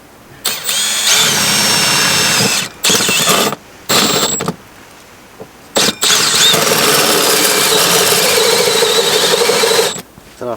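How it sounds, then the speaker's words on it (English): A power drill bores a hole in a van outdoors in a remote spot, whining in several bursts with short pauses between them, then one long continuous run of drilling, loud and close. "drilling a hole in my van in the middle of nowhere"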